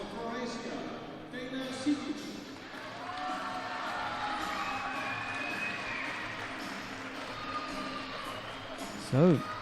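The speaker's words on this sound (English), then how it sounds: "So the home crowd gets something to cheer about." A home crowd cheers at a judo bronze medal contest at the Zagreb Grand Prix, broad sustained crowd noise in a large arena with a commentator's voice running over it and a short sharp shout near the end.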